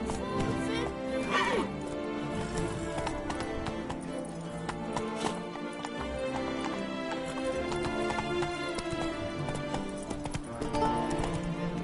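Roach, a horse in The Witcher video game, clip-clops along at a steady walking rhythm under a bed of game music, the hoofbeats even and moderately close.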